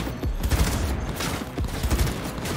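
Gunfire cracks out in a Cyberpunk 2077 firefight, several sharp shots spaced through the moment, loud and close, with one landing as a headshot.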